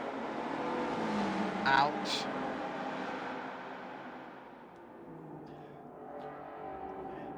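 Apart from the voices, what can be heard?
historic touring car engine droning in tunnel, racing video game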